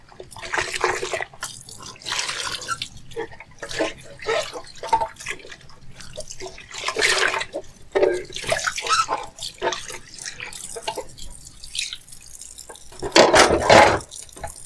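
Water splashes and runs in uneven bursts from a tap, hitting dishes in a sink, with intermittent scrubbing and clinking, close by.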